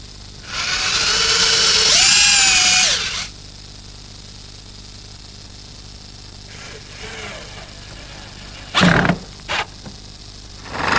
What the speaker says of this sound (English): The last hole that I have to drill is through the end and the foot.